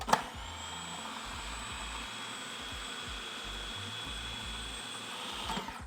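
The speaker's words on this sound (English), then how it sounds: "we're gonna blend for a further couple of minutes" A food processor blends hazelnut butter with coconut oil, a steady, unbroken motor whir that holds at an even level for about six seconds with no talking over it.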